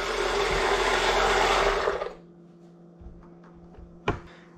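A loud blender motor whirs steadily for about two seconds while mixing mayonnaise, then cuts off, leaving a low hum and a sharp click.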